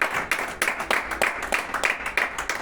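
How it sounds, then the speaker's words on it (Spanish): A church congregation at a Sunday service applauds loudly, dense rhythmic clapping from many hands sustained throughout, close and steady. "Vas a dar un fuerte aplauso."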